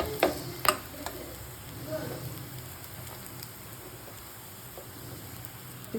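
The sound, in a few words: stirring bitter gourd fry with spice powder in pan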